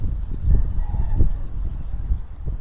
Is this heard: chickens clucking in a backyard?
yes